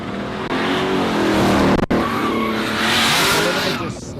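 A drag racing ute, a twin-turbo big block making thousands of horsepower, spins its tyres at a dragstrip, a loud continuous squeal and engine roar with the wheels slipping; a brief cut near the middle, the noise carrying on without letup.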